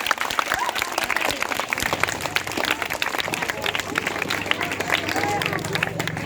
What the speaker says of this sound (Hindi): जोरदार तालियां बच्चे के लिए होना चाहिए।